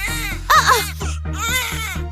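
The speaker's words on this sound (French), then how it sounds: "le petit pleure" A baby wails in a home, loud and close, in repeated rising sobbing bursts with short breaths between them.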